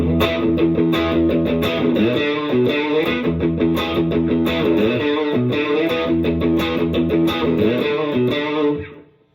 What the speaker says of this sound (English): the distortion on a Tele actually sounds pretty good on the bridge position